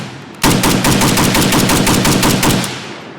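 A SIG SG510 rifle fired from its bipod empties the rest of a magazine in one loud, close, rapid burst of about three seconds, shots rattling evenly, then stops abruptly.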